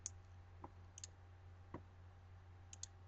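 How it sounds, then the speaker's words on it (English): Mouse clicks while saving a blog page on a computer, a few faint, sharp ticks scattered alone over a quiet steady hum. "Click on Save"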